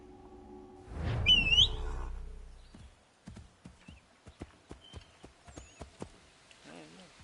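Horse hooves clip-clopping in Assassin's Creed 3 Remastered, a steady run of distinct hoof knocks after a brief whistle and rustle, with faint birdsong in the background.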